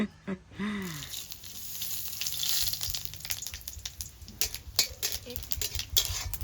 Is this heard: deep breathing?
no